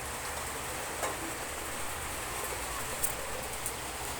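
Rain falls steadily as a faint, even hiss, with a few soft scattered drops ticking on a nearby surface.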